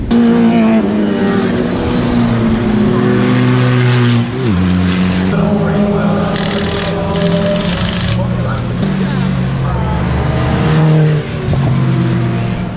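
Loud endurance race car engines, including a BMW E46 320d diesel, roar and whine past one after another on a track, their pitch rising and falling continuously with no quiet gaps.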